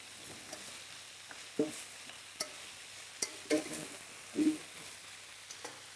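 Puntarelle sizzles quietly in a pan over full heat, a soft steady frying hiss broken by scattered pops and stirring clicks, close and fairly faint, with no voices.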